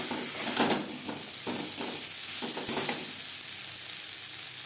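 Spice mix frying in oil in a pan for egg and potato curry, a steady close sizzle and hiss with intermittent stirring scrapes, no talking.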